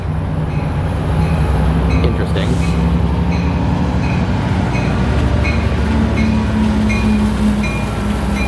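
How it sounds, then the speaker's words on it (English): A train arriving at a station rumbles loudly and steadily close by, a deep constant drone with a faint high whine; someone says a word quietly. "another train showing up"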